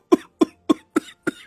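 A man coughs loudly, five harsh separate coughs in a steady rhythm, close and clear with no talking over them.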